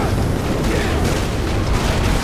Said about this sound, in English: Well, I hear explosions